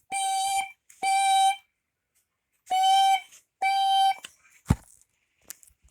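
A smoke alarm made in 2007, taken down from a house ceiling after it began chirping, sounds four loud, piercing electronic beeps in two pairs during a test, followed by a few clicks and handling knocks.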